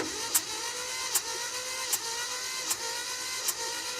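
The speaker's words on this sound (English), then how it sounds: "Yeah, that's all you get is 5 cranks." A car engine cranking over on the starter during a cylinder compression test, a steady loud whirring drone with five evenly spaced compression pulses roughly every 0.8 seconds, no talking.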